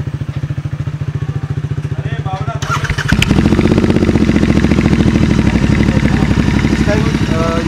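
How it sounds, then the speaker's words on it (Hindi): Royal Enfield Interceptor 650 twin with an aftermarket exhaust, idling with a loud, rapid thumping beat that rises sharply after about three seconds into a stronger, revved note, close to the microphone. "अब जो हम साउंड आपको सुनाने जा रहे हैं, मतलब जो म्यूजिकल वॉइस आएगी वो आएगी विद एग्जॉस्ट के साथ"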